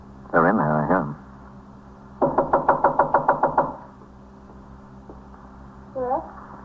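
Police officer's knuckles rap on a front door in a 1953 radio crime drama, first a quick burst then a steady run of about ten sharp knocks, close and loud, with a voice briefly heard afterward.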